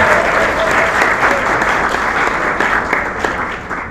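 A sold-out theater crowd bursts into sustained, loud applause, dense clapping filling the room without pause before tapering slightly toward the end.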